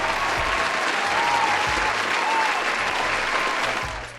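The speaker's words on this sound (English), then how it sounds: "Go ahead and give her applause." An audience applauds with dense, steady clapping that holds for about four seconds before tapering off at the end.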